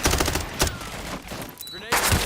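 Rapid bursts of automatic gunfire and sharp shots in a first-person shooter match (MW4 / Wardogs), loud and close, with sound-effect clutter between bursts.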